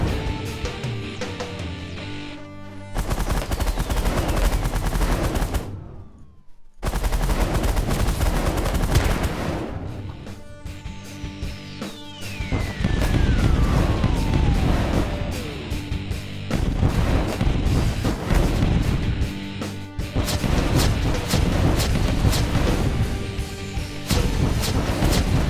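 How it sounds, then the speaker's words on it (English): Spaceship guns in The Last Federation blast away at incoming missiles, a loud, dense barrage of rapid gunfire bursts that runs almost nonstop, breaking off only briefly near the start. "I'm actually killing the missiles so I'm shooting them down"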